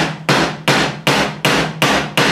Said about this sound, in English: you're hammering it onto the wood